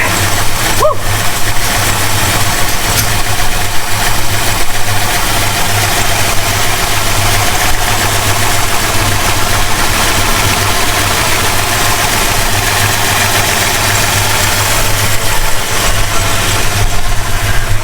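A 1969 Plymouth Road Runner with a 440 V8 idles steadily after more than twenty years sitting dormant, a loud continuous rumble holding even throughout with no speech over it.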